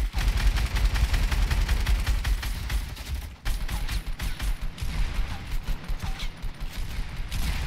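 Dense, rapid gunfire in an online shooter game, with loud overlapping bursts of automatic shots and thumps repeating almost continuously, briefly dropping out once midway.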